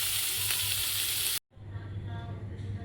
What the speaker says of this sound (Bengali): তারপরে এটা ভেজে নেবো, খুব হালকা ভাজবো, বেশি লাল হবে না